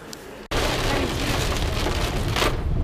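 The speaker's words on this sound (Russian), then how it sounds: "Ливень прет такой." A heavy rain shower bursts in suddenly as a loud, dense wash of rain pounding on surfaces, steady and close, with no talking over it.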